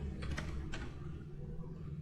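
Clacking on a computer keyboard, a few quick keystroke bursts near the start over a steady low background hum.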